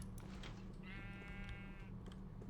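A sheep in a video game gives a single wavering, nasal bleat lasting about a second. It sits over a busy background of game noise and clicks.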